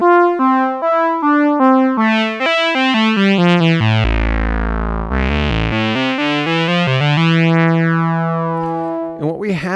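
A simple analog-style synthesizer with two oscillators plays a run of stepped notes, then sweeps its pitch down and back up with audible beating between the detuned oscillators, loud, bright and buzzy.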